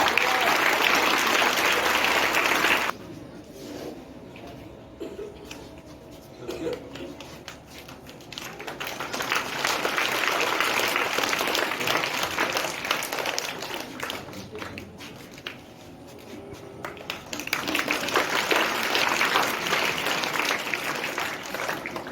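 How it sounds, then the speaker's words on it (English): Students and audience clap at a school award ceremony during certificate distribution at a morning assembly, the applause loud and sustained, dipping to quieter scattered clapping midway before swelling again. "Put up your hands together, clap your hands."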